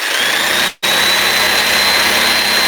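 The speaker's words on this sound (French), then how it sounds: "le mur, il tanque à marteau-piqueur" A jackhammer breaks through a wall with a loud, harsh, continuous mechanical roar. It cuts out for a split second, then resumes at full force with no voices over it.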